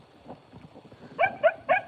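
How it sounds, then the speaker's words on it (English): A dog barks three times in quick succession near a trail on a pony ride, sharp and fairly close after a stretch of softer rustling and hoof sounds. "I need to go and get rid of this dog"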